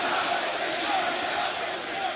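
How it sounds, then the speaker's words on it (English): Arena crowd at AEW WrestleDream 2024 stomping and clapping during the Will Ospreay vs Ricochet vs Konosuke Takeshita match, a dense, steady roar of many people that stays loud and unbroken throughout. "We're stomping here, clapping to sound like a thunderstorm"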